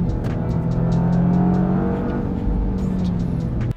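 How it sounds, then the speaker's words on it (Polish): Toyota GR Yaris engine roaring loud and close as the car powers through a handbrake turn, steady high-revving drone with a brief dip near the end, no voices. "Wchodzicie w zakręt, odciągacie ręczny, dociskacie gaz i wychodzicie."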